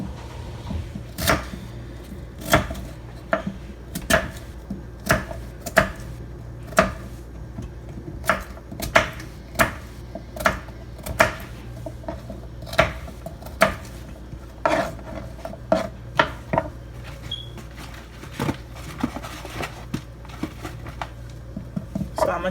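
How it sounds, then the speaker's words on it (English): Carcoon is chopped for Jamaican ital soup with a knife on a cutting board, making sharp, regular chops with short pauses between them over a quiet kitchen background. "So I'm gonna chop all the carcoon up"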